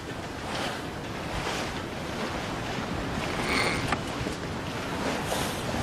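Rough river waves and gusting wind form a steady, dense wash of water and wind noise with no clear pauses, swelling slightly near the middle and heard alone.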